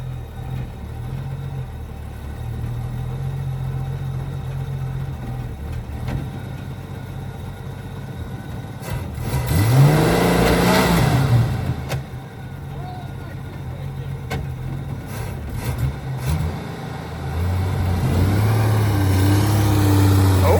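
A Mustang engine idles with a low rumble, revs up once in the middle, then settles back to a steady idle; a voice speaks briefly.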